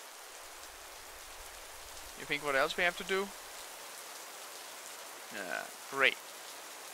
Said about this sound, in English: Now it started raining again.